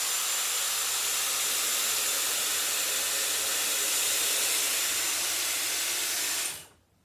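Dyson Airwrap smoothing brush blowing a strong, steady rush of air for several seconds, a bright continuous hiss that shuts off abruptly at the end.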